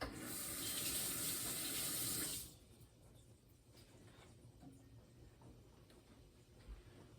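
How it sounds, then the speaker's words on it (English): Hands are washed under a running kitchen tap, a steady close hiss of water for about two seconds before it shuts off, leaving faint room noise and small clicks. "Wash my hands a little bit."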